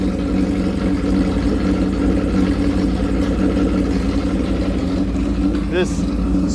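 An old motorcycle engine, either a 1977 Kawasaki KZ1000 or a Honda CB160, idles a little high with a steady, even low rumble that stays close and constant throughout.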